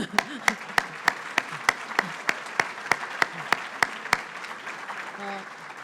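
Spectators applaud the hockey teams at a winter tournament awards gathering, a steady patter of crowd clapping with one person's loud, evenly spaced claps close by, then tapering off as a voice begins.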